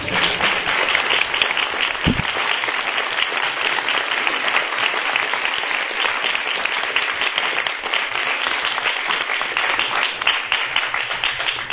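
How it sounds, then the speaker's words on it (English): Sustained, dense applause from a seated audience after a Commonwealth Club of California discussion panel, loud and even throughout with no pauses and no speech over it. "give them all a huge round of applause"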